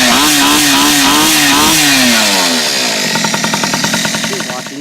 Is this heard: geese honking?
no